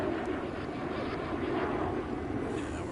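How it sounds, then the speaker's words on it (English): A loud airplane drones overhead in a steady, unbroken roar that fills the whole stretch at even loudness, with no talk over it. "Sorry about that plane, so loud."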